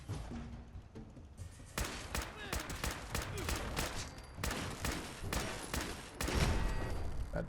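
Rapid bursts of pistol gunfire from the video game Fallout 4, a dense run of sharp shots fired in quick succession with loud, close reports and a heavier burst near the end, no voices.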